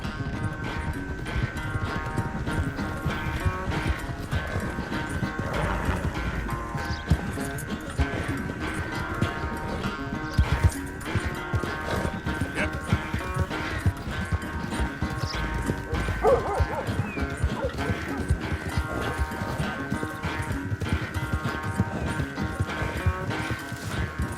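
Horse hooves galloping in Red Dead Redemption 2 during a race, a steady clip-clop rhythm running continuously under a dense game soundscape, moderately loud throughout.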